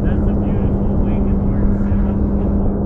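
A 1:2 scale RQ-7 Shadow model airplane drones overhead in flight, a steady loud engine buzz with a low constant hum, holding level throughout.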